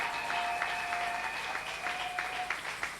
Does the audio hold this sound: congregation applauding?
yes